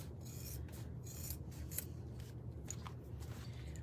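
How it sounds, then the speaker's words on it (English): Scissors trimming a cork fabric notebook cover made in the hoop, with steady close rasping snips and cloth rubbing over a low background hum for several seconds, no talking. "Just trim that off, and we're just gonna go all around the sides."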